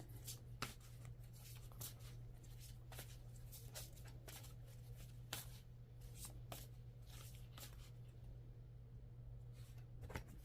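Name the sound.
tarot and oracle cards being handled and pulled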